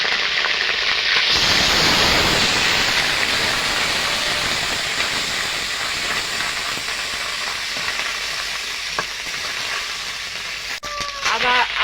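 Ginger paste hits hot oil in a pan, starting with a loud burst of hissing sizzle that settles into a continuous frying crackle. Faint clinks of a utensil come near the end.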